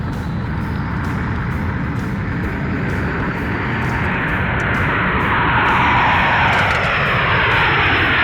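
A loud, steady airplane engine roar builds slightly as a toy airliner takes off, continuous and close with no talking.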